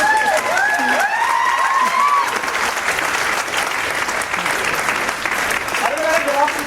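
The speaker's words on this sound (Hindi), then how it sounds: "तालियां क्यों बजाते हो?" Loud, sustained applause from a large audience fills the whole stretch, with a voice speaking over the clapping at the start and again near the end.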